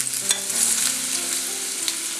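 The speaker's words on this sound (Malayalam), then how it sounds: "ഇതെല്ലാം കൂടെ എണ്ണയിലിട്ട് നന്നായിട്ടൊന്ന് വാട്ടിയെടുക്കണം." Ginger, green chilli, curry leaves and garlic sauté in hot oil after mustard seeds have popped, a loud close sizzle with steady stirring and occasional scraping clicks for mango pickle.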